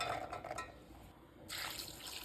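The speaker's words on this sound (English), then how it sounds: "Add 1 liter of water in the pot." Water poured into a cooking pot to boil soaked chickpeas, a steady splashing fill that swells louder partway through, close and alone with no talk.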